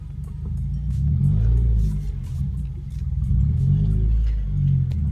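A 2015 or later Subaru WRX engine with a newly fitted COBB intake rumbles low and steady, swelling into a couple of moderate revs before settling back.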